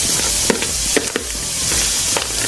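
Mayonnaise is stirred and mixed in a bowl, making a soft continuous wet scraping with a few sharper clicks of the utensil, heard close over a sizzling kitchen background.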